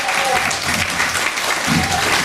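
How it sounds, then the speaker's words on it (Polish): An audience at a Women's Day cabaret show applauds, a steady, loud wash of clapping from a crowd filling the whole moment. "Dorota Pacholarz, Bogdan Marawiec, proszę powstać i wielkie brawa."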